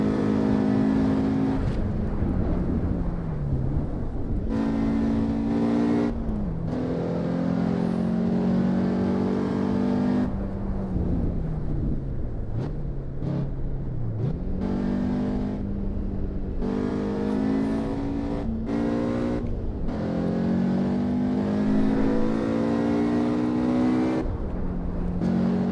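A small, newer 4-cylinder car engine in the racing game Assetto Corsa Evo, revving up through gears again and again with rising pitch and brief drops at shifts, loud and steady throughout.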